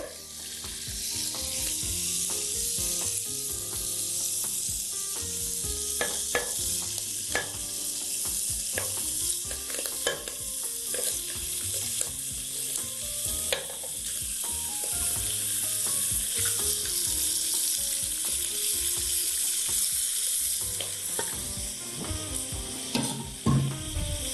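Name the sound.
lamb pieces frying in a pot for shorba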